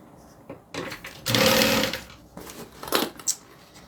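A home sewing machine runs in short bursts while stitching a garment pattern, with a close whirring hum that starts and stops a few times, the longest run about a second.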